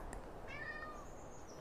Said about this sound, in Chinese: 还有一只猫叫胖子，胖子是我一个同事在他们小区捡到的一只蓝猫